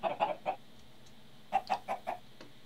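Minecraft chicken clucking in two bursts, three short clucks then four more after a pause, clear and close with no voices.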